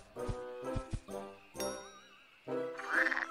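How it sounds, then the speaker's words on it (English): A cartoon frog croaks in a few short, loud, tonal bursts with a warbling pitch, backed by bright jingling music effects in an animated bear show. "It's a frog!"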